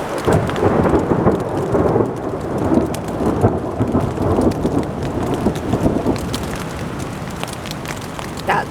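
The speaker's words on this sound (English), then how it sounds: "That's loud thunder." Heavy rain pouring steadily with deep rumbling thunder rolling beneath it, loud and close, continuing throughout, during a thunderstorm in the Yosemite wilderness.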